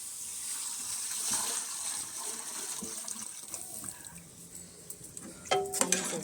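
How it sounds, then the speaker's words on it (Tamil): Water gushes steadily into a cooking pot of salted, well-sautéed vegetables, close and fairly loud, with a sharper splash near the end. "இப்போ நம்ம தண்ணி சேர்த்துக்கலாம்."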